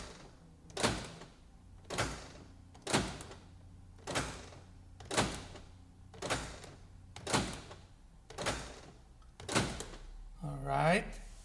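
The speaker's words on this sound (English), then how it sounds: "I will close the driver's door and open driver's door. I will repeat the same thing 5 times." A Toyota Sequoia driver's door is shut and opened over and over, giving a steady series of about nine solid thunks roughly a second apart, close and loud, followed by a brief rattling jingle at the end.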